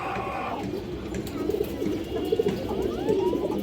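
A female Ra Pankhi pigeon coos softly a few times in low, rolling pulses over a steady background murmur, with no talk.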